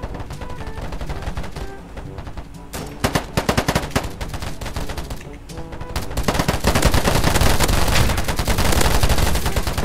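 Rapid gunfire from a shooting video game, with repeated bursts of automatic shots that build into heavy, sustained firing toward the end.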